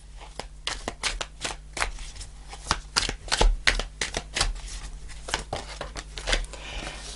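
Tarot cards are shuffled and drawn close to the microphone, with a rapid, uneven series of sharp papery snaps and slaps over a low, steady background hum.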